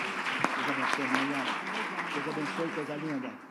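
A church congregation at a celebration service applauds together in a dense, sustained wash of clapping, with voices cheering and talking over it.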